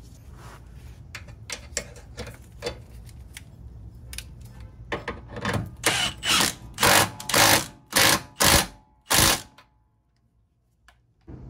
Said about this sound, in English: I'm gonna fasten this bolt and the one in the back.